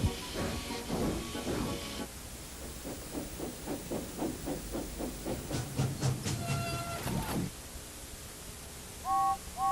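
A steam train chuffs in a steady rhythm that quickens, with hissing and a sharp whistle toward the end.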